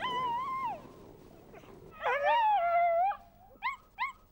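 Sled dogs howl and whine in long wavering cries, first one voice and then a louder rising howl, followed by two short yelps, close and clear with no talk.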